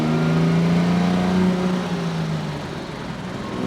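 A 1955 Jaguar XK140 MC engine pulling steadily as it runs through the gears, a continuous droning hum that eases in pitch and loudness over a few seconds, heard from inside the car without talk.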